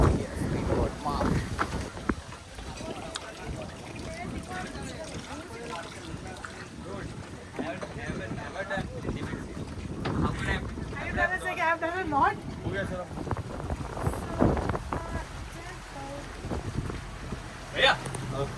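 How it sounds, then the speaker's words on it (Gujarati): Speedboat running across open water off Goa, engine drone and hull slapping on waves with wind buffeting the microphone, and people talking over the ride throughout. "સ્પીડ બોટમાં શોટ છે તો એ લઈએ છીએ સ્પીડ બોટમાં"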